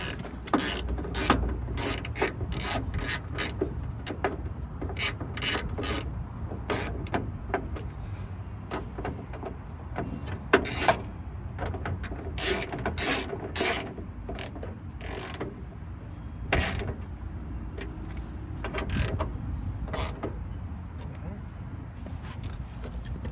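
A ratchet tightens bolts on a Honda Civic coupe window regulator, giving dense, rapid clicking bursts in quick repeated strokes close up throughout, over a low background hum.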